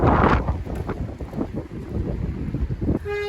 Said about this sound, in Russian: Порывами ветер сильненький.